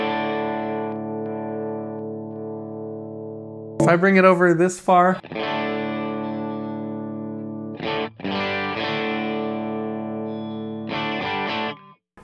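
Electric guitar played through a Fractal FM9 amp model with the gain turned well down, ringing steady sustained chords and notes that are cut by a short burst of talking and a couple of brief pauses.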